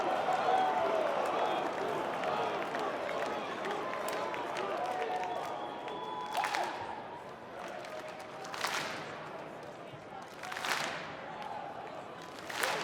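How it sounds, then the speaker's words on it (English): Wrestling crowd at a live pro show in Toronto clapping unevenly out of time, with applause and cheering swelling in several bursts over a steady arena murmur, fairly distant. "These people in Toronto just can't figure out how to get on time with this clap."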